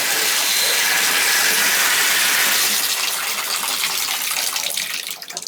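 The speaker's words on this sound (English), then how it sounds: "We're getting good hot water now." Hot water runs steadily from an American Standard tub shower faucet, a loud, continuous broadband rush of water falling into the bathtub, with no talk, easing slightly near the end.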